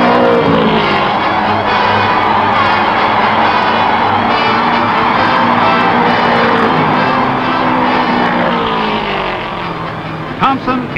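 Race cars at the 1960 Indy 500 roar around the track in a dense, loud, continuous engine rumble over a crowd, with a narrator talking throughout.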